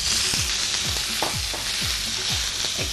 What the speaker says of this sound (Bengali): একটু ভাজা ভাজা করে নিতে হয় মুরগিটা